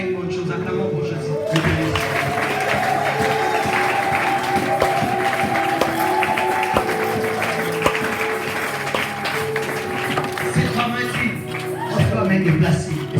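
A church congregation applauding together, with sustained clapping from a crowd mixed with voices and a held musical tone running throughout.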